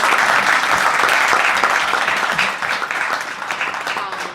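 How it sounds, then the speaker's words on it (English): A crowd applauds the panel at an urban male panel event in Boston, a full burst of many people clapping together, loud and sustained, then easing slightly near the end. "I'd like to ask everyone to give a round of applause for our panel."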